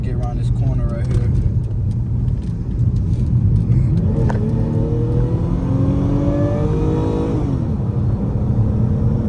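Dodge Challenger SXT accelerating hard on the road, a loud engine note rising through the revs, dipping at a shift and climbing again, with steady road rumble heard from inside the car.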